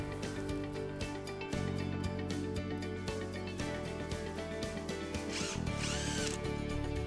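A power drill drives screws into a Western Red Cedar table frame, its motor whirring in short repeated bursts close up, with a rising whine near the end as a screw seats.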